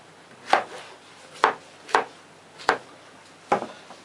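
A knife chops zucchini on a cutting board for Korean mandu dumplings: five distinct, evenly spaced cuts with sharp clean knocks, close and alone.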